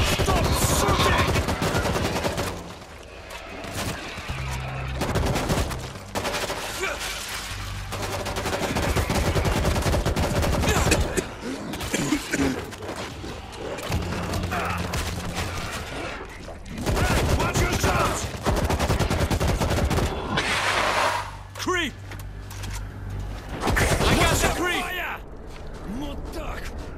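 Rapid gunfire from the zombie shooter World War Z in a mall setting, with dense bursts of automatic fire and shots repeating through the whole stretch, heard under excited shouting from players.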